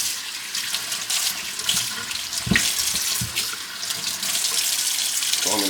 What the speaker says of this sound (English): So I'll wash them, rinse them off.